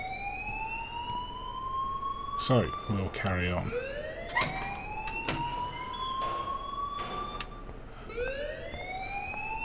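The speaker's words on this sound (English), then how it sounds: "please turn off that alarm" Alarm blaring in the Life Is Strange video game, a rising, wailing siren tone repeating in sweeps with a burst of harsher pulsing, while someone talks over it.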